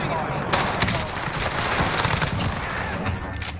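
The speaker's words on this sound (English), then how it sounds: "Shooting at me." Rapid bursts of gunfire in Call of Duty Warzone Rebirth, dense and continuous through the clip, including Mac-10 fire, with players talking over the shooting.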